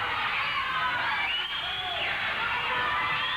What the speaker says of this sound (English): You hear the fans clapping for Buddy Wayne to get up?